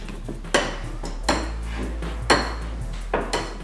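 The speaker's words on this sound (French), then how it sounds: "je vais prendre mon presse-purée" Cooked potatoes pressed with a hand potato masher in a metal pot while making gnocchi, four sharp clanking thuds at roughly even intervals over a steady low hum, close and fairly loud.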